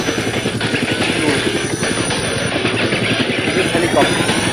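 Steady, loud rotor-and-engine roar of a helicopter with a rapid pulsing chop, continuous throughout at close range.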